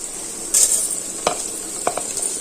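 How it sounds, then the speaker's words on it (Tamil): Coriander and mint for chicken biryani fry in a pan with a steady, quiet sizzle, broken by a few soft stirring scrapes and clinks nearby. "கொஞ்சம் லைட்டா கொத்தமல்லி புதினா இப்போ இதுல வதங்குறதுக்காக"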